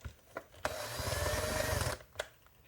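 A power driver runs in one sustained whirring burst of about a second and a half, driving screws into a slash dust cover, with a few short clicks and taps before and after.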